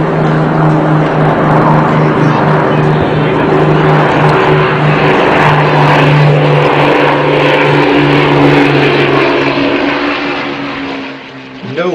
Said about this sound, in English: the peace was about to be shattered by the roar of Lancaster bombers, suddenly appearing in the valley flying at an incredibly low altitude